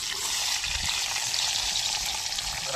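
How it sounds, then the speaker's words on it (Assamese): Onion sizzling in hot oil in a pan, a steady, loud, close frying hiss that continues without pause and with no talking. "তেল গৰম হৈছে, পেঁয়াজটো দি দিলোঁ।"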